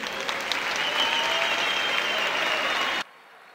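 A stage audience at a rap battle event applauds loudly and continuously for about three seconds, a dense wash of clapping that cuts off abruptly into near silence.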